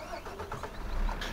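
A MAN logging truck's engine starts up in the farming game Farming Simulator 15, a short cranking sound that swells into a louder low rumble near the end.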